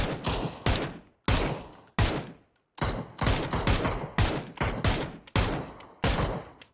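Rapid bursts of automatic gunfire in the battle royale game PUBG, about a dozen sharp shots in an uneven rhythm, loud and close with brief gaps between them and no talk over them.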